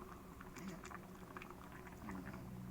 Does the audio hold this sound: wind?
no